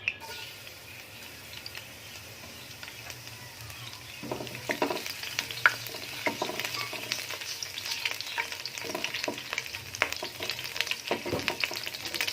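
Chopped garlic sizzles in hot oil while being stirred, a steady crackling fry with scraping stirs that grows busier partway through, close and alone.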